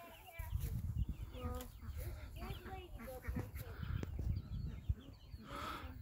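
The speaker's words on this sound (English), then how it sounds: "We got all of our coops and, like I said, all of our chickens." Chickens cluck and chatter softly in a homestead coop, scattered calls over a low rustling background, faint and fairly distant.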